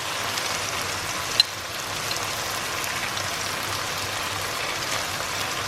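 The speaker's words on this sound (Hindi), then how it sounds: "और जो मैंने मिक्सचर बनाया था योगर्ट का वो भी इसमें डाल दूँगी." Yogurt mixture hits chicken cooking in a pan over a high flame, giving a soft, even sizzle throughout with one brief clink early on.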